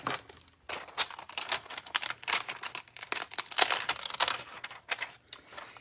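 Scissors cut out a stamped paper flower box, giving close, irregular bursts of crisp paper snipping and crinkling with brief pauses between cuts.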